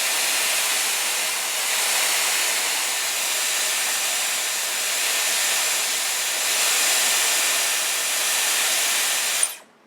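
Dyson Airwrap hair styler blowing on its cool shot setting, a steady close airy hiss that holds evenly with slight swells, then cuts off abruptly at the end.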